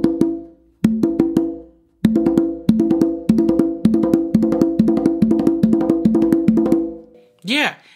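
Tumba hand-drumming exercise starting on the non-dominant hand, a brisk run of sharp, resonant open tones in a repeating pattern, close and loud, with a short pause early and a brief vocal sound at the end.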